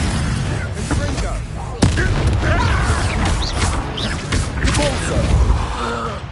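A Confringo fire spell blasts in Hogwarts Legacy combat, a sudden booming crack amid continuous loud battle rumble, crashes and spell effects, with a voice speaking over the din.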